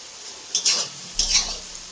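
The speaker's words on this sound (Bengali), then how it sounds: "দেখো পেঁয়াজগুলো প্রায় অনেকটাই লাল লাল হয়ে গেছে" Onions frying in a pan for a duck meat curry, with two short bursts of stirring scrapes over a faint, steady sizzle, close and fairly quiet.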